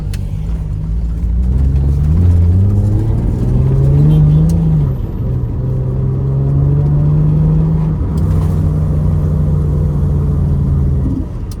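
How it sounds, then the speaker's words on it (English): A car engine idles with a deep, rumbling exhaust burble, revving up and down in slow swells close by, with a truck-like growl throughout. "The burble and this sound like a truck."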